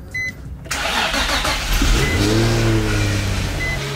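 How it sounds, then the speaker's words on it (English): A Nissan Z drift car's engine cranks and catches after a brief quiet moment, then settles into a loud, steady close-up idle with a rising rev in the middle and a low, throbbing rumble throughout. "I'm gonna run the car for a second"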